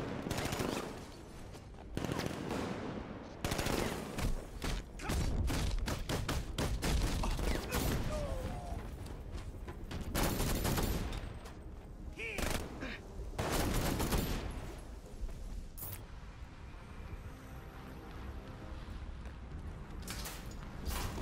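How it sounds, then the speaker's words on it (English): Gunfire in the Batman Arkham Knight Red Hood DLC, with dense bursts of shots and impacts in repeated clusters across a tense combat stretch, loud game sound with a voice faintly present at times. "that's a sniper rifle"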